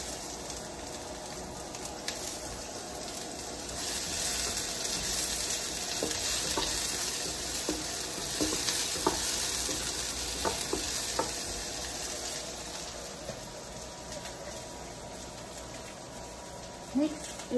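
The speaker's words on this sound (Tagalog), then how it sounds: "Ihulog natin ang ating sibuyas." Chopped onions sizzle and fry steadily in a hot pan while a spoon stirs them, with occasional scraping clicks against the pan over continuous crackling.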